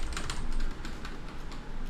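Rapid keystrokes on a computer keyboard while a password is typed, a steady run of close, crisp clicks lasting a couple of seconds with no voices.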